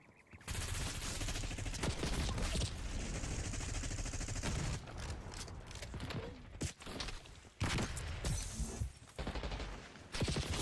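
Dense, continuous light-machine-gun fire in Black Ops 6, a sustained loud rattle of rapid shots with a few brief pauses and bursts toward the end, loud and close with no talk.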